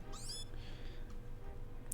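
A short, high-pitched meowing cry from Meowth in Pokémon Legends Z-A rises and falls briefly over a steady low game ambience, faint and alone with no talk.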